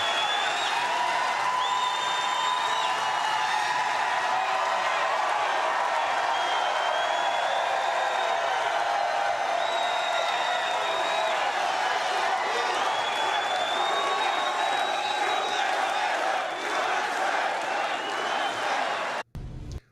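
A large political rally crowd cheers, whoops and applauds in a continuous loud roar with shrill whistles rising above it, sustained for the whole stretch before cutting off abruptly at the end.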